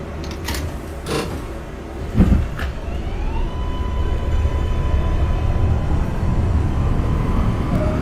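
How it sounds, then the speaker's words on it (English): In a train simulator game, an NYC Subway R142A train idles with a steady low rumble, then a rising electric whine builds as the doors shut and the car prepares to move. "Closing doors, please."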